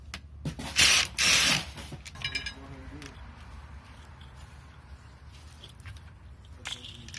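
A ratchet works a 10mm bolt on the crank sensor of a VW Passat engine during teardown: a short run of quick, light clicks follows a couple of loud hissing bursts, with some voice-like sound nearby.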